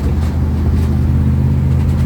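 A 1970s Dodge street van rolling downhill, its engine and road noise forming a loud, close, steady drone that runs unbroken through the short clip with no talking.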